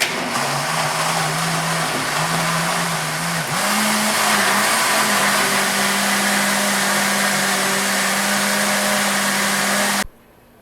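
A blender mixing pancake batter whirs loudly and continuously for about ten seconds, its motor pitch shifting slightly early on before cutting off abruptly.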